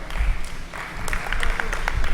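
Audience at a mushaira poetry gathering breaking into scattered applause, a crowd of hands clapping unevenly at moderate distance with a murmur of voices underneath.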